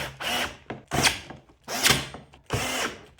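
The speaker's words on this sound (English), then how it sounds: "get those screws started by hand, and then use your drill to tighten them up" Cordless drill driving screws into a gaming chair during assembly, four loud close whirring bursts of about half a second to nearly a second each, separated by brief pauses.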